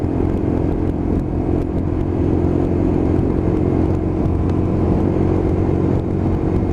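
A Lexmoto LXR SE 125cc motorcycle is ridden with a steady, close engine drone and road noise, the throttle fairly constant, with faint wind buffeting and no voices.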